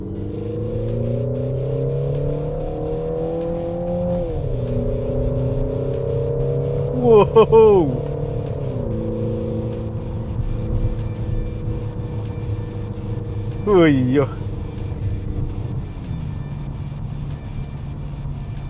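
A Peugeot 5008 SUV engine drones steadily from inside the cabin, climbing and easing in pitch as it revs, while someone speaks over it and lets out brief excited exclamations twice.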